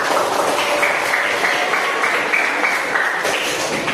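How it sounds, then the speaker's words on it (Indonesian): Classroom applause for a student in a grade 8 Islamic studies lesson, a steady patter of many hands clapping for about four seconds, moderately loud and fairly close. "Beri tepuk tangan untuk."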